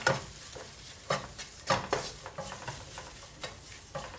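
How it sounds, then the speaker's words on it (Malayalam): A spoon stirs asafoetida powder through a pan for masala dosa filling, giving a series of distinct scraping strokes at an irregular rhythm over a faint sizzle, with no talking. "ഇനി ഒന്ന് ഇളക്കി കൊടുക്കാം."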